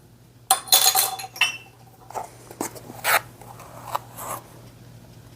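Dry molasses cookie ingredients, including flour and baking soda, are whisked in a bowl, with a few quick scraping clinks and brisk rattling strokes close up, then softer scattered taps.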